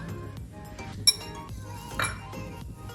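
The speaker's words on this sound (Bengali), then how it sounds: "এখন নেড়ে এটার মধ্যে দিয়ে দেব বেরেস্তা।" Metal utensils clink and scrape against a cooking pot while pulao is stirred and fried onions are added, with one sharp clang near the start and softer clatters and stirring around it.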